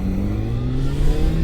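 Yamaha FZ6 motorcycle engine on a city street near mountain roads: a brief, close, steady mechanical drone rising slightly as it accelerates.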